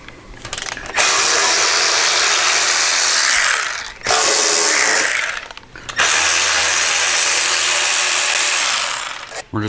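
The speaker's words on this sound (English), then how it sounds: "Going to take our 1/4 inch Allen and bust these loose." A 1/4 inch Allen ratchet loosens the fender bolts on a 21 inch Blazer wheel in three loud, close bursts of rapid clicking with short pauses between them.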